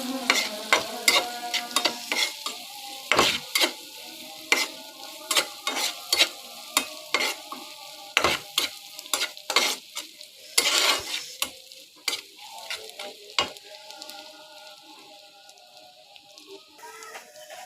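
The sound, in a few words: onion with turmeric frying and being stirred in pan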